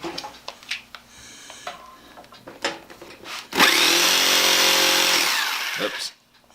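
A Skil Classic 4395 jigsaw, a 3.2 amp model, just reassembled, whirs up loud and steady for about two and a half seconds and then cuts off. Clicks and handling knocks come before it.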